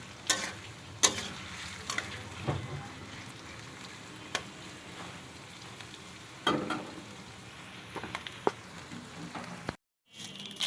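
Chopped onions frying in oil until crisp and golden for a home-style chicken biryani, a steady close sizzle with occasional stirring clinks and scrapes throughout, a brief silent gap near the end.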